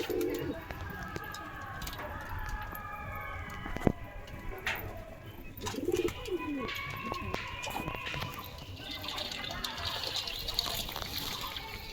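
Pigeons bathing in water in bright sun outside their coop give soft cooing and occasional splashes amid other bird calls, while a person talks over them throughout.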